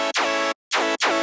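Synth patch with a saw-wave sub oscillator set one octave below, for a future riddim track, plays three bright, buzzy notes with a short gap after the first, each note's tone sweeping downward.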